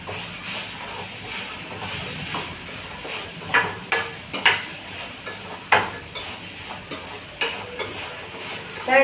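Onion and tomato softening with a little salt in a hot pan, a steady hiss and sizzle broken by repeated sharp stirring scrapes and spatula knocks in the second half, close and with no talking.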